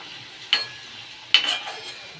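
Potatoes frying in a pan at home, with two distinct utensil scrapes against the pan over a faint, quiet background hiss.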